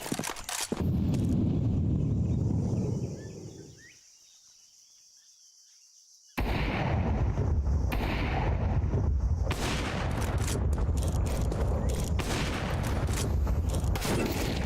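Counter-Strike 2 match: loud bursts of gunfire open the clip, drop to a quiet lull with a faint hissing burn, then heavy gunfire and explosive thuds resume and continue to the end.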